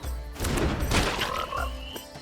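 A frog croaks as the Dart Frog card is played in the MTG Arena digital card game, a loud, close, rattling croak lasting about two seconds with a brief burst in the middle and no talking.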